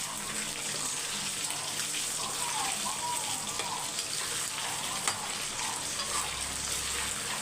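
Chicken pieces fry in a pan with a constant bright sizzle and crackle, overlaid by occasional scraping and stirring as the pieces are turned, all fairly faint and steady throughout.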